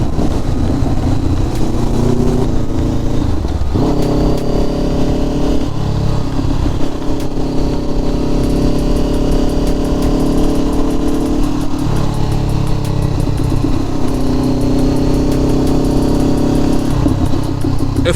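A motorcycle engine revs repeatedly, rising and falling in pitch, loud and close throughout with no talk; the bike may be a Kawasaki Z125.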